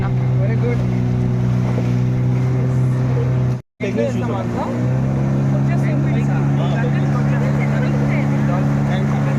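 Motorboat engine droning steadily on a boating trip through a mangrove forest near Pondicherry, a loud continuous low hum with wind noise and a brief dropout, under people talking.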